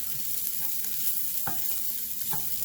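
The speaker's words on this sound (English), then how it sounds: "The sesame seeds frying up." Sesame seeds sizzle and crackle as they fry in a pan for a bitter gourd dish, a steady close hiss broken by a few sharper pops and the scrape of stirring, with no voices.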